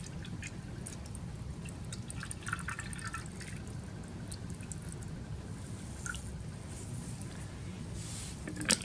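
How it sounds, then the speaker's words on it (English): TAE buffer is poured into a lab electrophoresis chamber, making a soft continuous trickle and light dripping of liquid, close and faint, with no voices. "we'll put our TAE into the electrophoresis chamber, pouring it up to the max line."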